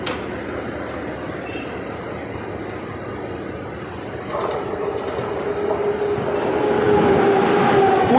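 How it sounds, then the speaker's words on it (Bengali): An express train hauled by a WAP7 locomotive approaches and passes, a rising rail rumble with wheel clatter and a thin metallic squeal that grows louder and nearer toward the end, no voices. "একটা এক্সপ্রেস আসছে, WAP7-এর লোকোমোটিভ আছে"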